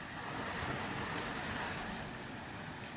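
Steady broadband rush of water trickling and flowing somewhere within the ruins of Bhangarh fort, with a constant washing texture and light wind noise on the microphone, continuous and unbroken with no voices.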